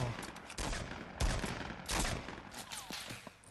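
Fortnite battle royale gunfire, a few distinct sharp shots spaced across a few seconds amid quieter game sounds.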